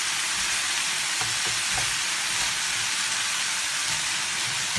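Fried chicken and sauce being stirred together in a hot pan for noodles, a steady close sizzle and crackle with soft scraping of the utensil, no voices.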